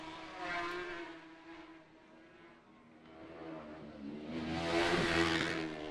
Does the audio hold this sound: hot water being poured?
no